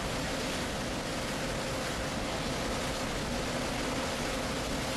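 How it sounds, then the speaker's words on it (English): Water sprays steadily from nozzles at the end of two pipes onto a hot clinker bed at a white cement plant, a dense continuous hiss and rush with no talking. "You can see the water spraying on top of the clinker bed."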